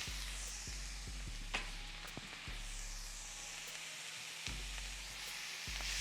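Diced yellow onions with garlic and ginger paste sizzle in a skillet as a soft, steady hiss, with several sharp clacks and taps from a utensil against the pan scattered throughout.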